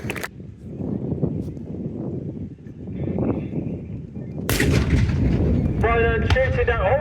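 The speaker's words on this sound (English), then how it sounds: "Another explosion coming back." At an outdoor tanks and trucks show, a pyrotechnic explosion goes off with a loud sudden boom, followed by a rumbling roar and crowd noise. A commentator speaks over a PA system throughout.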